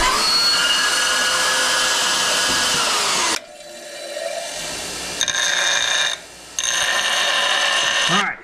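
A flap disc grinds metal on a Gen V LT-swapped S10 build, with a long harsh whir that cuts off, then short bursts of grinding separated by brief pauses, loud and close.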